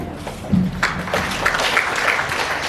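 Applause from an audience at a farewell ceremony in Burundi, a steady wash of clapping that swells and holds at moderate loudness for a few seconds, with faint voices underneath.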